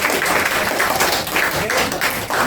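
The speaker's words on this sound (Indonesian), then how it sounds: "Tepuk tangan." Students in a classroom clap together after a teacher's question-and-answer session about eclipses; the applause is close, steady and dense for the whole stretch, with no talk over it.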